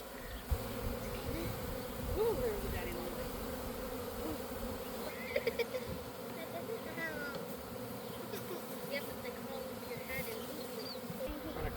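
A honey bee swarm hums around its hive in a dense, continuous buzz, with individual bees droning close by and a few faint knocks and voices in the background.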